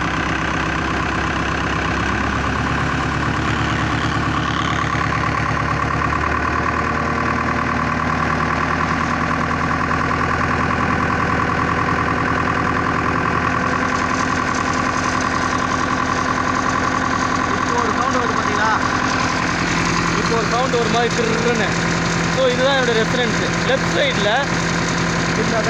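A Powertrac Euro55 tractor engine runs steadily throughout with a dense, rumbling drone and a rattling vibration, close and loud, while a person talks over it.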